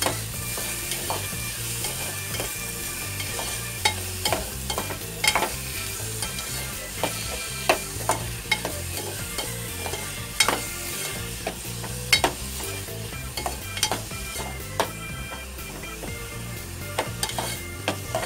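Onion and tomato frying in oil for a mung matki usal, a steady close sizzle broken by frequent clinks and scrapes of a spoon stirring the pan, with no voices.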